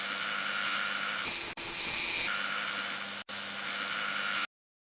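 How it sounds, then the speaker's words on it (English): Dental micromotor fitted with a cylindrical stone burr grinding contact areas on a crown, a steady high-pitched whine running continuously with two brief stops before cutting off. "shape and reduce contact areas using a micromotor with a cylindrical stone burr for broad, convex contacts"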